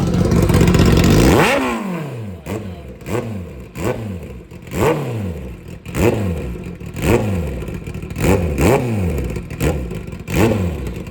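A Kawasaki ZX10R with an Arrow full exhaust system revving hard, one long loud blast followed by about a dozen sharp, rhythmic throttle blips, each rising and falling quickly, close and aggressive with a crackling edge.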